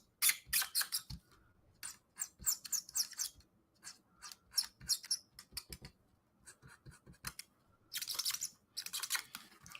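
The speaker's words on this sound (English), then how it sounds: "I love the squeaky of the squeaky sound of the marker." A marker squeaks across an activity book page in short, irregular bursts of scratchy strokes, close up and quiet, with brief pauses between lines.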